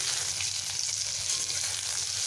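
Pieces of ridge gourd fry in hot oil in a pan, giving a steady, close, dense sizzle with no pauses.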